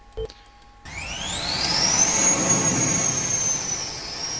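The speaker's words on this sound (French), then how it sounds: "eux, ils font des drones qui volent comme ça." A drone driven by an ionic thruster rises into a loud, steady high whine with a rising pitch sweep that then holds and slowly eases off, after a brief quiet start.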